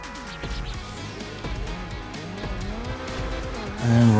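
An Invetero Coquette D10 sports car in GTA Online revs near and loud, engine note rising and falling through repeated gear shifts, with a short tire squeal and a louder surge at the end.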